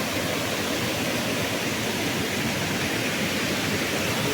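A Konkan waterfall pouring down from above near a dam, a loud, unbroken roar of falling water with steady broadband hiss and no voices.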